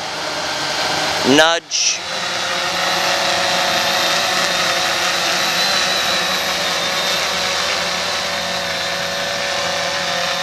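Electric RC helicopter motor and rotor whirring steadily at close range as throttle is added, a continuous whine that holds level after a brief chirp and dip near the start, with a short spoken word early on.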